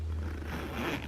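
A smooth YKK zipper on a yellow Italian Nappa leather tote handbag is drawn in one continuous close-up pull, giving a soft, even rasp.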